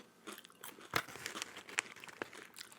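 Crunchy toasted coconut snack chewed close to the mic, with irregular sharp crunches and bites mixed with softer crackly mouth sounds, no talking.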